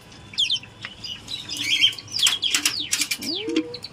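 Exotic pet birds chirp and flutter inside a cage at home, with a run of bright, quick calls and several short wing flaps at close range and no talking.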